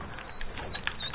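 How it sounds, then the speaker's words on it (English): A bird call in a video game: a thin, sustained whistle that wavers slightly in pitch and holds steady for about a second, fairly clear and with no talking over it. "Yo, the bird's back!"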